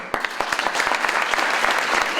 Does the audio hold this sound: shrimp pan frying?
no